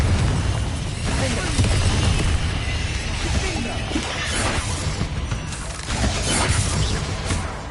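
A Confringo fire blast spell cast in Hogwarts Legacy, heard as a dense run of loud shattering bursts and crackling impacts with rumbling low end, several hits spread across the stretch.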